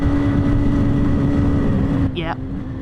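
A two-stroke Moto Guzzi motorcycle engine bogs at high altitude, a close, steady droning buzz under wind that cuts off abruptly near the end, followed by a brief squeak.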